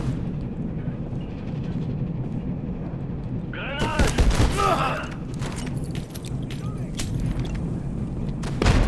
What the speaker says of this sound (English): You guys are shooting each other.